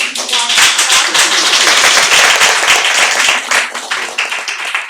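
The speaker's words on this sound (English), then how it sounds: "I think we should applaud." An audience at a Cuban diaspora photography event gives a round of applause, close, dense clapping that builds quickly and holds strong for several seconds before thinning slightly at the end.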